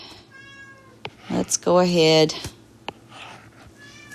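A cat meows loudly in the background, a long drawn-out cry of about a second between brief harmonic calls, mixed in with a person talking.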